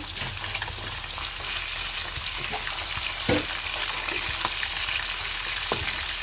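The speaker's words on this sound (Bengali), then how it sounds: "মাছগুলো আস্তে আস্তে ভাজা হোক" Katla fish pieces frying slowly in a pan of oil, giving a continuous bright sizzle with occasional sharper pops and stirring clicks, close and alone without voices.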